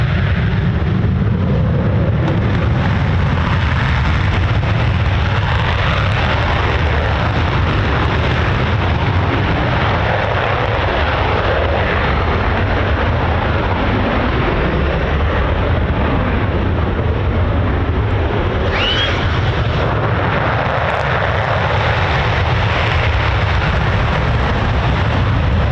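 Military jet, an F-15 or F-35, making an unrestricted quick-climb takeoff at RAF Lakenheath: a loud, continuous broadband roar that stays strong and steady throughout, with no talking.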